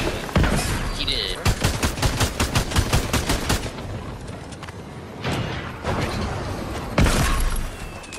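Automatic P90 fire in a video game comes in quick, sharp bursts, loud and close, with short pauses and a couple of later volleys after a quieter stretch.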